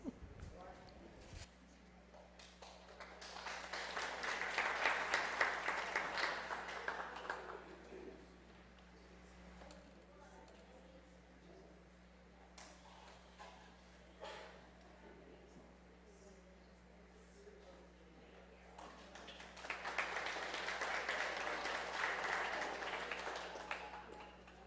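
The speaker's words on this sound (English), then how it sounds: "huge round of applause." Applause from a congregation during a Unitarian Universalist religious education church service, two swells of clapping rising and fading at moderate distance, with quieter room sound and a steady hum between them.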